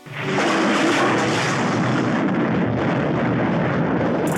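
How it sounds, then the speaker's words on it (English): A film explosion ending a boat chase: a loud, sustained roaring blast that swells quickly and rumbles on steadily without fading, with no voices. "the boat chase ends with a fiery explosion for no reason"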